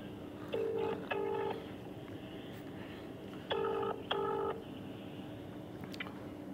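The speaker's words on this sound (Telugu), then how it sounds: "ఒక్కసారి phone high court advocate Arun Kumar గారితో మనం మాట్లాడదాం." A telephone call is being placed: two pairs of short touch-tone dialing beeps sound over a quiet background hiss, with a faint click near the end and no voices.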